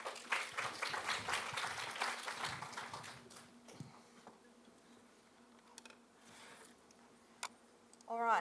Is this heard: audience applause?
yes